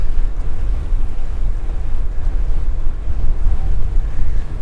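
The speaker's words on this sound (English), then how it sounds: "Especially with this ferocious side wind. It actually wants to blow me towards the right side of the road." Strong, ferocious side wind buffets the microphone during an early spring road ride on a Marin DSX 2 bike through farmland, a loud, steady roar of gusting rumble with no talk.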